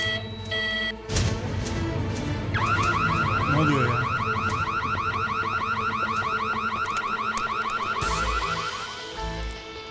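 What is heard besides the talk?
elevator alarm ringing while stuck in elevator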